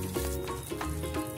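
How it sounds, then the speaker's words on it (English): Masala spices fry in a pan for egg biryani, giving a steady close sizzle with soft crackling and a few brief stirring scrapes, with no voices. "Let it fry little."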